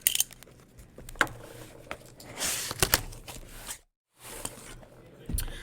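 A knife slicing open the plastic wrap on a board game box gives short scraping, tearing strokes close by. The cuts come in separate bursts with a brief silent gap between them.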